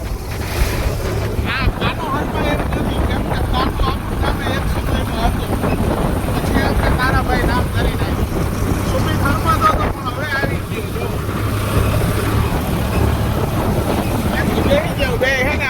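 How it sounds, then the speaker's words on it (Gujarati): Cold wind rushes steadily across the microphone alongside a continuous wash of water, with voices talking throughout. "પવન એવો ઠંડો આવે છે ને કે એની વાત જ મૂકી દો।"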